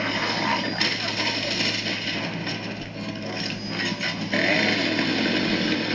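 Chainsaw weapon revving in the Gears of War video game, a loud continuous buzzing roar that surges and dips across the whole stretch, with a brief break near the middle before picking back up at full intensity.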